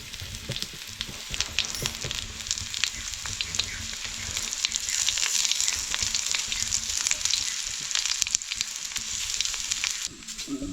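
Colocasia leaf rolls (alu vadi) sizzle steadily in oil on a hot griddle over a wood-fired stove, a continuous crackling fry close by with no talking.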